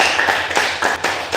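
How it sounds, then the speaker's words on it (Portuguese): A church congregation claps during a worship service, with a few loud, uneven bursts of hand claps in close, roughly rhythmic succession rather than a sustained roar. "Dê uma salva de palmas ao Senhor."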